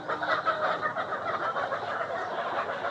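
Layer hens in a poultry shed holding batches of birds of different ages cluck and chatter together, a dense, continuous flock murmur with no voices over it.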